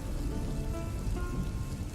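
Steady rain patters densely on a surface, a constant close hiss and drumming without pauses or voices.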